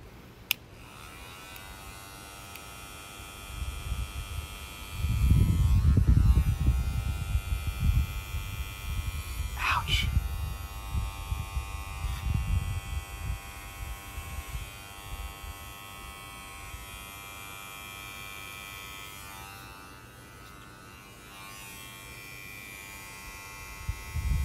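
An electric shaver runs steadily on a head being shaved, a close, loud buzzing drone with shifting pitch that swells as the head is pressed against the scalp and eases later, with no talk over it.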